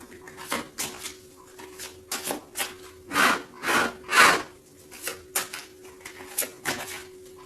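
Tarot cards being shuffled by hand give a run of soft papery riffles and rubbing bursts, several louder swishes clustered in the middle, fairly close and with no talking over them.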